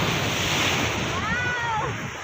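Ocean waves break and wash up on a beach shore in a continuous loud rushing surge with wind buffeting the microphone, and a voice speaks briefly over the surf.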